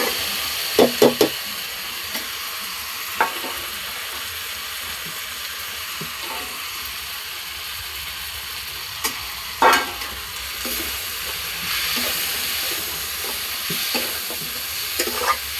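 A tomato masala mixture fries in a pan with a steady low sizzle while a utensil stirs it, giving several sharp scraping clicks near the start and again around the middle, with no talking.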